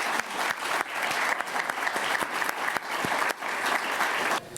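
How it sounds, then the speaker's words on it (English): Audience applause at a university dental health symposium, sustained clapping from a moderately sized crowd with a few louder individual claps standing out, easing slightly near the end. "first a thank you and applause to him"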